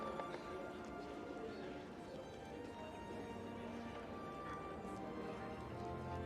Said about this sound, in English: Saddled horses neigh and stomp their hooves.